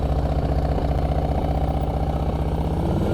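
A motorcycle engine runs steadily at low speed during slow-speed riding practice, a close, even mid-pitched drone with a slight throttle surge and no voices.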